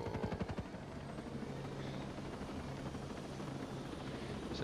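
Helicopter in the video game Ghost Recon Breakpoint, a steady close rotor drone with rhythmic blade chop, loud and continuous throughout with no talk over it.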